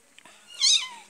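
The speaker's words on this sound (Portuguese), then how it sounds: "essa gatinha é brava. Novinha, gordinha." A young, plump, angry kitten lets out a single short, strained meow, close by with faint soft noises before it.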